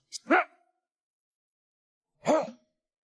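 Two short, separate dog-like barks come from panda keepers dressed in panda suits, who are imitating a dog up close with a long pause between the barks.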